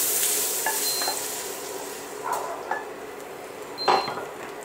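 Bacon lardons sizzle in a pan with onions, a soft steady frying hiss broken by a few stirring scrapes and light clinks of a utensil against the pan, close by with no voices.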